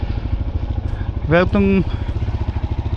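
A motorcycle engine thuds in a steady, pulsing rhythm while riding, loud and close throughout, with someone briefly speaking over it.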